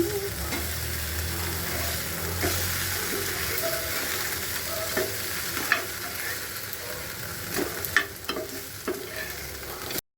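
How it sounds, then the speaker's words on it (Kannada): Small fish pieces, four or five at a time, fry on a hot tava in a steady, close sizzle with scattered crackles and occasional sharp pops, and no voices. "ತವ ಮೇಲೆ ಫ್ರೈ ಮಾಡ್ತಾಯಿದ್ದೀನಿ."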